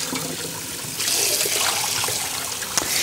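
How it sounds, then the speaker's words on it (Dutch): Steady water running from a tap into a pan, the flow growing stronger partway through and splashing continuously. "En dan laat ik even een klein laagje water in de pan."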